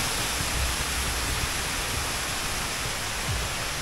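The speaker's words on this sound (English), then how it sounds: "Waterfalls." Waterfalls beside a walking route in Johannesburg give a steady, loud broadband rush of falling water, continuous and close, with no voices.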